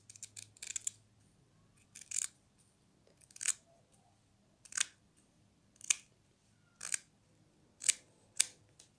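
Scissors snip through thick one-centimetre ribbon for a hair clip bow, eight crisp close cuts spaced about a second apart in a quiet room.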